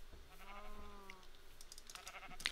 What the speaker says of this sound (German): Und Schafe! Schafe, Schafe, Schafe!